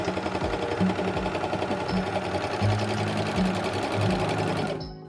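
A Janome AirThread 2000D overlock machine sews a wide three-thread seam, running with a loud, continuous mechanical chatter close by for nearly five seconds before winding down.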